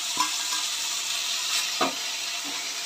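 Browned onion sizzles loudly in a pan for baigan ka bharta as chopped tomatoes and chilies go in, a dense steady hiss with a few soft knocks and stirring bumps, close and without talk.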